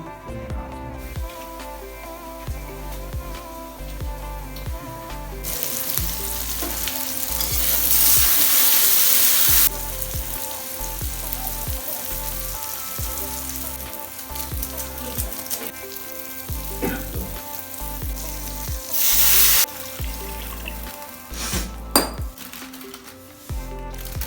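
A kadhai wok heats on a gas stove for making Maggi noodles, giving a loud, steady frying sizzle with two stronger hissing surges and occasional metallic clinks of a stirring utensil, with no talking.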